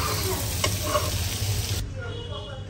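Potatoes frying in a pan, giving a steady close sizzle with soft stirring scrapes that drops to a quieter crackle near the end, with no talk.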